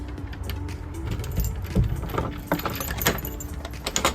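Keys jangling during a London workday in a van, short metallic clinks and rattles over a low rumbling background, close by and moderately loud with no talking.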